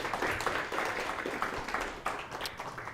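An audience at a Melbourne AWS user group meetup applauds the panelists, with a steady wash of clapping that holds throughout at moderate loudness.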